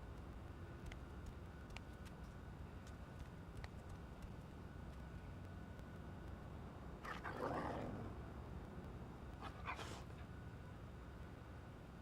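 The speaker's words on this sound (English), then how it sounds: "I don't know if they got an actual dog to make these noises or if this is a person" Dog sounds from the video game Shadow Hearts: Covenant: two short, faint yelping bursts come after several quiet seconds, set against a soft, low background hum.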